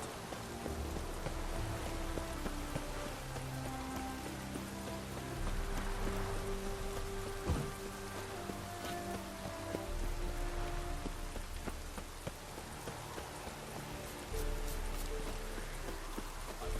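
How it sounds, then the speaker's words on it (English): Steady rain falls on surfaces in a dense, continuous patter with scattered close drips, loud and even throughout with no voices. "Rains like this come sowing time."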